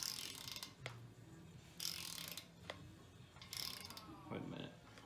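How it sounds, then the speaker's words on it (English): Close, quiet clicking and ratcheting of a torque wrench tightening inner engine bolts on a 5.3 LS bottom end, in several short bursts with pauses between them. "So I'm gonna torque them down to 15"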